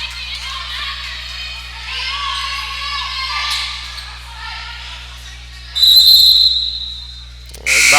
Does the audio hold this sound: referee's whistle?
yes